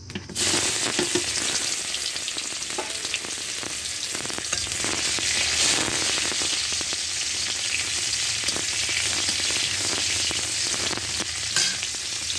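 Chopped onion and crushed garlic sizzling in hot oil in a pan, a loud continuous frying hiss with occasional crackles and light stirring, no talking.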